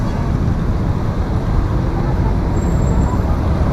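Heavy road traffic in a Philippine city: a dense, loud, continuous rumble of buses and cars passing close by, steady throughout with a faint voice underneath.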